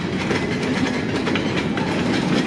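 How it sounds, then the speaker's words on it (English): A freight train rolls past close by on the rails, a loud continuous rumble with rhythmic clickety-clack of wheels over the joints. "All right, there's the end of the train."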